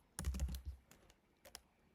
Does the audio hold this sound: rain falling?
no